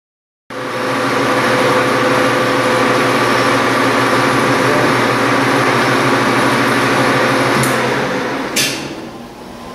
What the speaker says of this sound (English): I'm going to take a 20 thousandths cut.